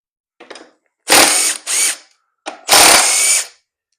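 A ratchet backs bolts out of a Honda CRF250L tail section, loud close bursts of rapid clicking, two long runs and two shorter ones separated by brief quiet gaps.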